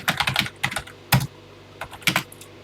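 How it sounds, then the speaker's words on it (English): Keys clack on a TI-99/4A home computer keyboard in quick bursts of several strokes, with short pauses between groups, close and fairly loud with no talking. "I'm typing the programs exactly as written"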